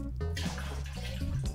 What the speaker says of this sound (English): The swirling of the beer at the bottom, like it's not splashing, but it is swirling